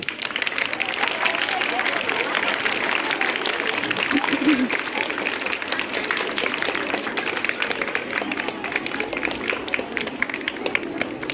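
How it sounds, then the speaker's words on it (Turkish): A school audience gives a dense, steady round of clapping for the teachers at a new school year ceremony, and the applause runs evenly through the whole stretch with crowd murmur mixed in. "Bu öğretmenlerimiz için alkışınız nerede kaldı?"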